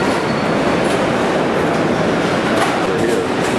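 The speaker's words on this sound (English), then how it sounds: "There's a choo-choo train of trucks." At a flower auction, trucks towing chained trains of flower carts make a continuous loud rumbling, rattling noise close by, with no breaks.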